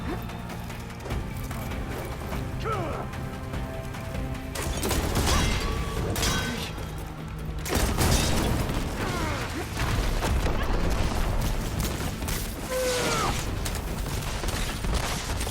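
Explosions and combat sounds from Horizon Forbidden West, with booms, crashes and mechanical clanks layered over a game soundtrack throughout.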